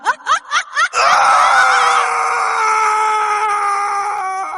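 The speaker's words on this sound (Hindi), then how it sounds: "फिर तभी किसान की एक दर्द भरी चीख पूरे गांव में गूंज जाती है" A farmer's pained scream in a horror cartoon village, loud and sustained after a few short rhythmic cries, trailing off slowly.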